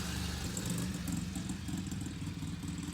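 A dirt bike engine idles and revs at moderate distance, a steady mid-pitched motor drone with rattly clatter running throughout, loud and continuous with no talk over it.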